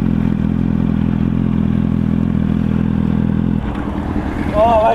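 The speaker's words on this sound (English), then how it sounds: "that is so noisy, that bike" A loud motorcycle rides along an open road near Oliver's Mount, Scarborough, its engine droning steadily close to the microphone before the tone shifts as it changes pace, with wind noise over it.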